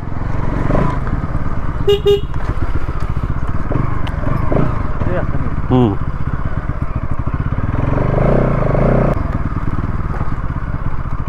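A Bajaj Pulsar NS200 motorcycle engine runs nearby while someone talks over it, with a brief horn toot and rattling clatter along the way.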